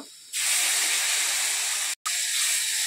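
Spices tipped into a hot pan over fried ginger-garlic paste, cooking a tamul gochor dish, burst into a loud, steady sizzling hiss that cuts briefly once before resuming, close up and with no voices.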